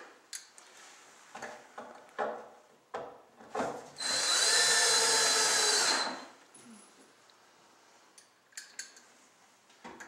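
A power drill whirs for about two seconds driving a square head screw during furniture assembly, surrounded by scattered clicks and tapping handling sounds.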